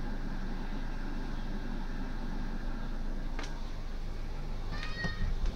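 Domestic cat meowing indoors, a couple of short, fairly faint meows near the end over a steady background hum.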